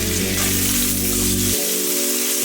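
Shrimp sizzle and fry in a pan for a fried cabbage dish, a steady loud crackle that lasts throughout, with a low hum that cuts out partway through.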